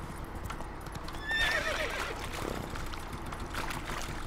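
A horse whinnies in The Witcher 3: Hearts of Stone, a quick shrill neigh over steady clip-clopping hooves and game ambience, all heard without speech.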